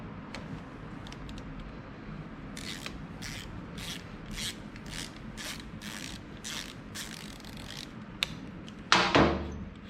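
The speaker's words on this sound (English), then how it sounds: "we're going to use the 3/8 ratchet to loosen and remove this bolt" A 3/8 ratchet loosens a front brake caliper bolt on a 2015 Honda XR650 motorcycle, with a steady run of close, crisp ratcheting clicks in even bursts, then a louder clunk at the end.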